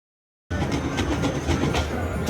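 Slot machine train bonus sound effects at Wynn Las Vegas: after half a second of silence, a steady, loud rolling rumble with rhythmic clickety-clack accents, like a train running past, continuing without any voices.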